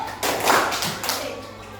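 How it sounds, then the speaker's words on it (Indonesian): Hand claps in a classroom rhythm exercise on patterns, a couple of sharp claps separated by a short pause, close and fairly loud, with no speech over them. "Tepuk, berhenti, tepuk."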